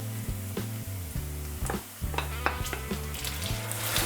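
Onion and bacon sizzle steadily in a frying pan, a close, quiet crackle with occasional stirring sounds and no talk.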